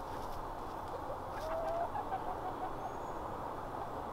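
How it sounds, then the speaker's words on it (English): Hens clucking softly over a steady outdoor hum, with a few brief higher calls rising from the flock. "we gotta check on the chickens."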